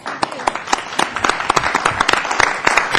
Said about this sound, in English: We probably owe you all a round of applause again.